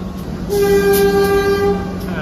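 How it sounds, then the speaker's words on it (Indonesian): A train horn sounds one sustained, steady blast, loud and nearby, over low rumbling rail noise, aboard the Kahuripan passenger train at a station. "Kita dengarkan suara klakson semboyan S35 yang kayaknya agak aneh sih"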